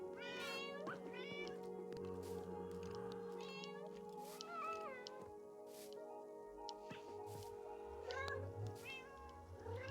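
Repeated cat meows in Minecraft, a video game, several short rising calls spaced across the clip over steady game music and ambient tones, fairly close and clear.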